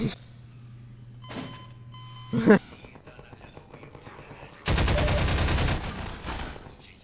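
Rapid automatic turret gunfire from Half-Life 2 bursts loudly for about two seconds near the end, preceded by a few sharp shots and mechanical clanks over low game ambience.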